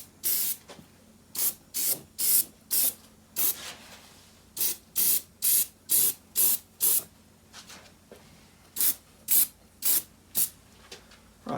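Short bursts of an aerosol spray coat a Porsche 928 door panel during restoration, coming in quick regular puffs in two runs with a pause between them, close and fairly loud.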